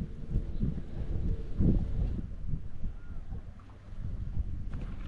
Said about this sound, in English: Wind is definitely ripping today